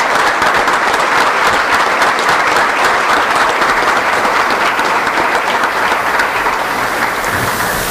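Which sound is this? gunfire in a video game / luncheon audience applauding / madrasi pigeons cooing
luncheon audience applauding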